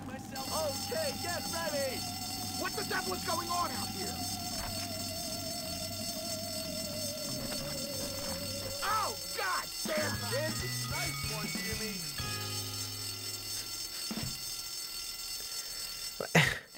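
A fire alarm rings in a video game as a steady electronic tone that slowly falls in pitch, sounding under continuous game noise before breaking into scattered synthetic effects and buzzes.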